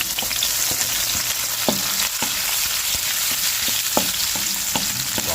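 Onions frying in a hot pan give a loud, continuous crackling sizzle with a few sharp pops and stirring knocks, close up and without speech.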